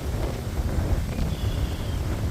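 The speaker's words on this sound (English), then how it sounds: "Getting kind of windy." Steady wind blowing across the microphone on a tree-lined road beside farmland in Minnesota, a low rumbling buffet with a faint thin whistle partway through.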